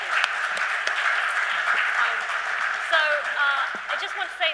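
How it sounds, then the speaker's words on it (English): A room full of people applauds a panel at an evening predictions event in India, continuous even clapping heard close up, with brief bits of speech and light laughter mixed in. "A little applause for our panel here"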